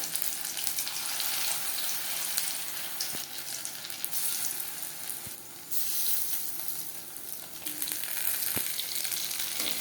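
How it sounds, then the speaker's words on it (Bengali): Steady, loud sizzling of prawn and vegetable pakoras frying in hot oil, with a few faint clinks of utensils. "হাই ফ্লেমে ভাজা যাবেন না পকোড়া উপরে ভাজা হয়ে যাবে"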